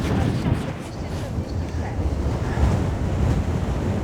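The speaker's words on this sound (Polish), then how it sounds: "Wiatr jest tak straszny," Strong wind on a mountain summit around 2,250 metres, on Karwendel near Mittenwald, buffets the microphone in a loud, constant roar, heavy rumbling gusts filling the whole clip with no pause.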